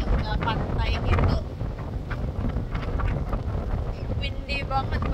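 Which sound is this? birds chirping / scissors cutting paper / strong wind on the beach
strong wind on the beach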